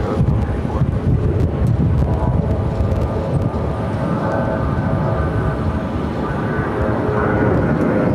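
A Southwest Airlines jet at Phoenix Sky Harbor airport, its engines giving a loud, continuous rumbling roar close by, steady across the whole span with no speech.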